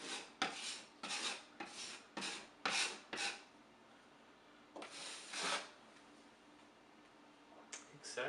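Hand sanding during a bedroom closet renovation, a run of quick rasping strokes in rhythmic bursts, a pause, then a few more scrapes at moderate level.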